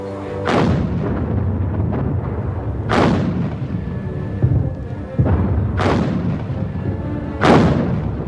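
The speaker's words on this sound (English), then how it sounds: "within days, the Belgian forts were pulverized into submission by Germany's heavy artillery." Heavy World War II German artillery shelling Belgian forts, four loud booming shots spaced a few seconds apart, each ringing out with a long rumbling tail.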